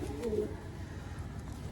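A pigeon gives a short, low coo near the start, close and fairly quiet. Faint background noise follows.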